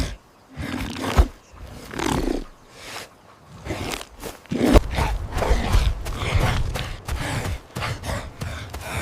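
Lions and saber-toothed cats roar in a prehistoric night scene, a series of deep, rough roars and growls in bursts of varying length, loud and close, with no talking.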